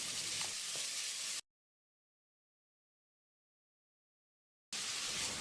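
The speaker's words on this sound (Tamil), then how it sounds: "வெங்காயத்தை கண்ணாடி பதத்துக்கு வதக்கிடலாம்." Finely chopped onions sauté in oil in a pressure cooker for a spicy chicken curry, giving a steady, hissing sizzle that cuts off into a long stretch of total silence, then briefly resumes.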